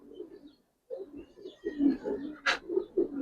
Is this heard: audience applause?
no